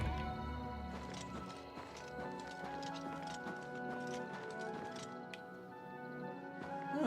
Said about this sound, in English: Ah, chestnut horse is mine to ride.